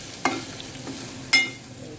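Cauliflower and tomato curry stirred in a pan, two distinct scraping strokes against the pan over a faint sizzle, close and fairly quiet.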